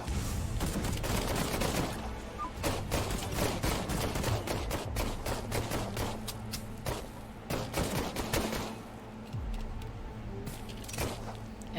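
Dense, rapid gunfire from the video game Headcount, with volleys and single shots overlapping in a continuous loud barrage of cracks and bursts, up close, with no talking.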